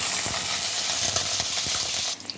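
Onions frying in hot oil for homemade fried rice give a steady, close sizzle with faint utensil clicks, then the hiss drops sharply near the end.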